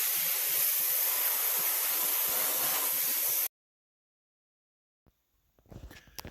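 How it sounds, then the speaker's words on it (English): A loud, continuous spray of cleaner from a squeezed nozzle hisses for a few seconds and then cuts off abruptly, followed by silence and a few faint clicks. "when you squeeze your nozzle, you end up with a really good spray"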